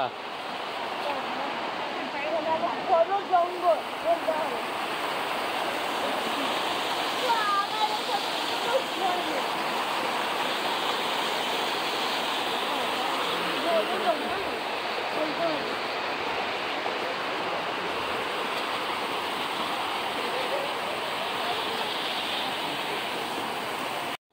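A cold mountain stream rushes in a steady, close, full-bodied roar that holds unbroken throughout.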